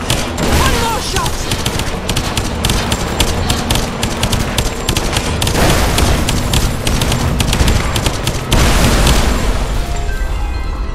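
Loud, dense game gunfire from Lara Croft and the Temple of Osiris, rapid shots and bursts with booming impacts running nearly continuously, mixed with busy game effects.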